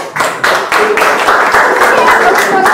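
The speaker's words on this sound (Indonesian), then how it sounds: "Ya, tepuk tangan." A classroom of students claps together, close and loud, starting as a few distinct rhythmic claps before merging into steady, busy clapping.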